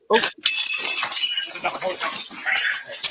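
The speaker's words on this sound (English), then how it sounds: "All that broken glass." Glass breaking in a video game, a sharp crash at the start followed by a continuous bright clinking and shattering texture, with voices talking over it.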